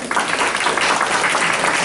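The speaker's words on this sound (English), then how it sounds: "I appreciate the applause." A crowd applauds steadily, dense clapping at a constant level throughout, fairly loud and filling the whole clip.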